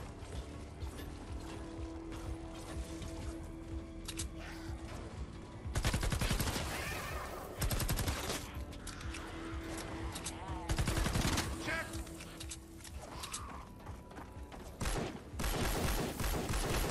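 Rifle gunfire in the video game Fortnite: Save The World rattles in dense rapid bursts with mechanical clicking, loud and continuous, under game noise and a little talk.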